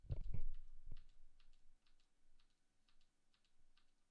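Computer keyboard keys, including an arrow key, are pressed in quick soft taps close by, beginning with a few louder knocks and fading to a steady light clicking rhythm.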